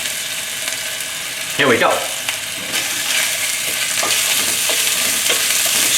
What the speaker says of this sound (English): Stir everything until aromatic before the ginger and garlic turn into really brown.